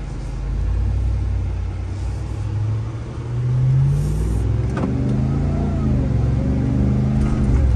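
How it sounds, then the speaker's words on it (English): A Ram TRX pickup with a Hellcat engine rumbles steadily from inside the cab, a deep low growl that swells slightly as it accelerates, continuous and fairly loud with no talking. "Truck's got an excellent sound"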